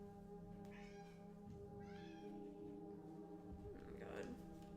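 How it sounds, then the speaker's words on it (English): A cat meows outside a door, a couple of faint, plaintive cries heard indoors over a low steady hum. "the other one's meowing outside the door"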